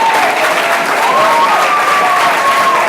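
Loud, dense applause from a school audience as Theobald Ferron stands and takes a bow, steady throughout, with a faint whistle-like tone running through it.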